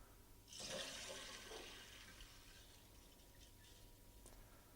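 Water rushes into a toilet cistern through a newly fitted valve, starting with a sudden loud gush, then settling into a quieter, steady fill, faint and close.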